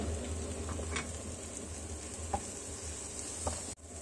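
Onions, peppers and carrots sizzle steadily in hot oil in a pan, a close, even frying hiss with a few soft stirring clicks and a brief scrape near the end.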